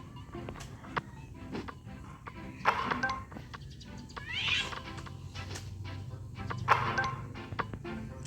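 A cat meows several times, clear and fairly close, with a few soft knocks and faint voices in the background.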